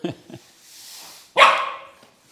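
A dog gives a couple of quick yips, then one sharp, loud bark close by, followed by quiet.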